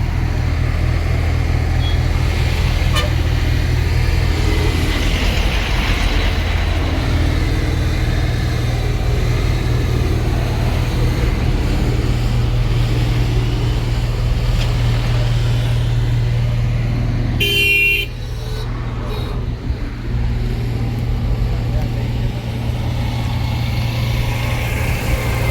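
Steady engine drone of an electric bus and road traffic on a route toward Godavarikhani, with car horns honking repeatedly through the scene and a brief dip near the end; no voices.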